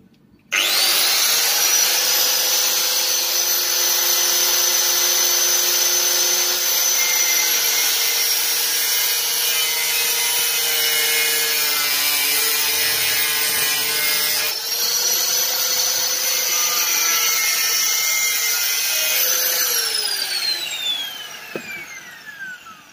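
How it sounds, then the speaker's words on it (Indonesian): An angle grinder cuts lengthwise into PVC pipe with a loud, steady, high-pitched whine that runs for about twenty seconds, its pitch dipping slightly under load before it spins down at the end. "Kita pakai gerinda nih, yuk kita coba."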